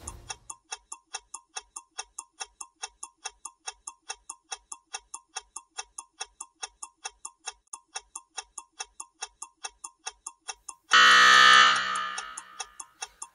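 At a televised Bible quiz, a game timer ticks steadily about once a second, then a loud quiz buzzer blares for roughly a second and a half before fading out.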